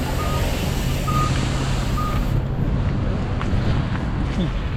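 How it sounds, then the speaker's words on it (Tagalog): A city bus pulls up to a stop on a cold Canadian street, its engine rumble and wind noise steady and loud throughout, with a faint repeating beep in the background. "Ayan, dito na yung bus."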